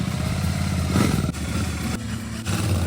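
A motorcycle engine running loud and close, a steady low rumble with clattery mid tones; it dips briefly around the middle and picks back up, with no talking.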